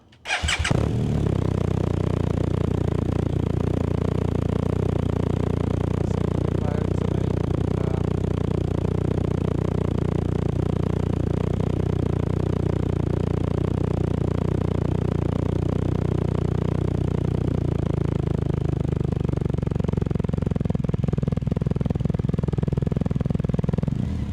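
A BMW R1250 GS motorcycle with its standard exhaust fires up from cold, then settles into a loud, steady, throbbing idle that runs close and unbroken for over twenty seconds, with no talk.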